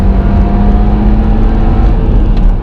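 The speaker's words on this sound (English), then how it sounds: "So it loves to rev." A Mk2 Seat Leon Cupra's engine revs hard and steadily, a loud, close, sustained mechanical roar with no voices.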